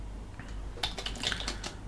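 Quick bursts of computer keyboard typing, close and crisp, several keystrokes clustered in the second half, with no talking.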